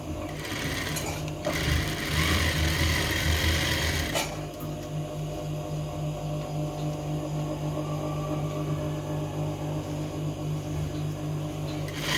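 A sewing machine stitches a zipper onto a sweatshirt jacket, running in a close, continuous mechanical chatter with a brief louder burst near the start.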